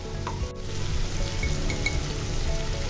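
Chopped onion and garlic paste frying in a few spoonfuls of oil in a pan, a steady close sizzle with crackling pops throughout.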